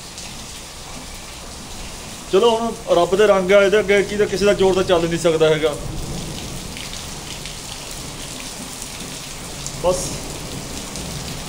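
Steady rain falls throughout, a constant hissing patter heard alone at first and then under someone speaking for several seconds.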